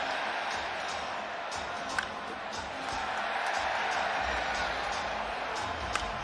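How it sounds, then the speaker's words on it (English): Baseball stadium crowd at the Home Run Derby sends up a steady, broad roar of cheering with a couple of sharp cracks, while a commentator talks over it. "Oh, listen to the crowd."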